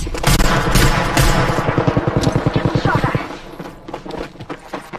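Automatic weapon fire in the video game Apex Legends, a loud close rattling burst of rapid shots followed by a few more separate bursts, mixed with game effects and some speech.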